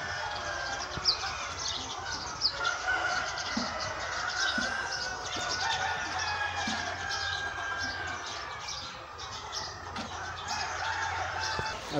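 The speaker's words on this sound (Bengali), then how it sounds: "এখানে যে মুরগি পালন হয়েছে, অনেক মুরগি দেখতে পাচ্ছেন" Dense flock of chickens at a six-storey poultry farm in Joypurhat, clucking and scratching continuously at moderate distance, with chirps scattered through a steady, busy din and no talk.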